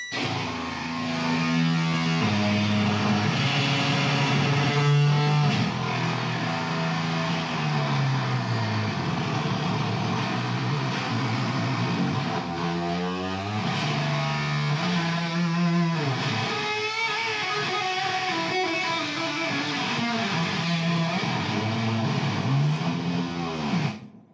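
Heavily fuzzed electric guitar through a fuzz pedal rumbles and growls throughout, with bending, swooping tones and dense distortion, loud and sustained with no voices.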